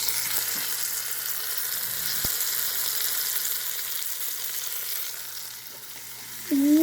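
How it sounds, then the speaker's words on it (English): Onions searing in a pot for pot roast, a steady bright sizzle that dips slightly before a stir near the end, with no talking. "we're going to toss in the onions and let those cook for about 4 minutes"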